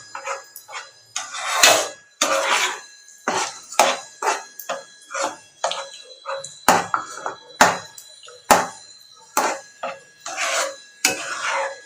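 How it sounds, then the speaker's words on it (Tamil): A spoon scrapes and stirs thick mango kesari in a pan, giving a series of rhythmic rasping strokes, close and fairly quiet, with no voices. "நல்லா கெட்டி பிடிக்காத மாதிரி நல்லா கிளறி விட்டுக்கோங்க."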